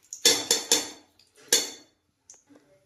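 A metal spoon clatters against a pressure cooker as two spoonfuls of oil and one of ghee go in for dal khichdi, giving four sharp bright clinks in quick succession, then fainter taps trailing off, close and clear.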